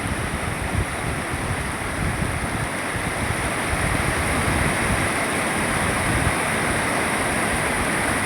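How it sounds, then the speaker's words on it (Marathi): A waterfall with a strong, fast, dangerous current thunders in a steady, dense roar close by, holding level for the whole stretch with no voices. "हा धबधबा."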